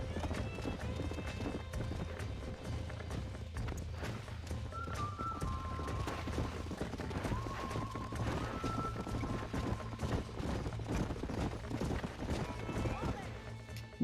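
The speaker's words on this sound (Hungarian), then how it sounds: "Na, meg is jön a két ló." Horses trot up in Red Dead Redemption with steady clip-clop hoofbeats and a whinny, under a continuous low ambient drone and faint tonal game sounds.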